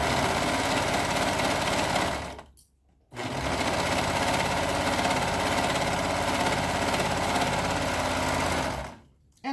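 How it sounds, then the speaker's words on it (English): A Brother 1634D serger stitches and trims fabric at full speed in a loud, steady mechanical whir, stopping briefly around the midpoint before starting again, then cutting out near the end. "So my serger, I have a Brother. It's a 1634D serger"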